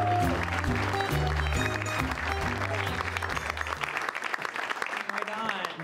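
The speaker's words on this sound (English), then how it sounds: "Please put your hands together" A comedy club audience applauds and cheers as a comedian comes on stage, clapping steady throughout, with band music playing loudly underneath for the first few seconds before it drops away.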